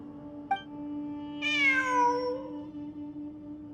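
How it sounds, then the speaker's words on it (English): A cat in the video game Genshin Impact gives one clear, drawn-out meow that falls in pitch, over a steady low hum with a brief click just before. "It really is a cat"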